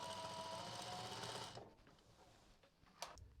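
A sewing machine stitches a drawstring backpack with a fast, steady whirring drone for about a second and a half, then stops, leaving faint handling clicks and a small knock.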